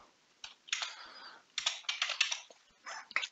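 Typing on a computer keyboard, close and quiet, in uneven bursts of rapid key clicks with short pauses between them.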